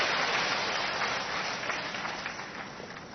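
Crowd applause greeting President Droupadi Murmu at a public gathering in Rajasthan, a dense, steady wash of many hands clapping that fades slightly toward the end, with no voices over it.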